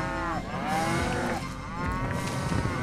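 Cows in the Rock of Ages 2 video game, with several drawn-out moos overlapping one after another, loud and close, over a steady rumbling game background with no talk.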